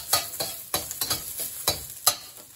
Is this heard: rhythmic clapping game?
no